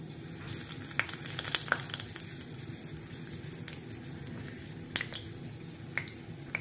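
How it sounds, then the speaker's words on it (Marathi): A dried red chili frying in moderately hot oil for a lentil dish tempering, a quiet steady sizzle broken by occasional sharp pops and crackles, heard close up without talk. "त्यामुळे हे तेल जेव्हा बेताचं तापलेलं आहे त्यामध्ये ही मिरची तळून घेते आहे"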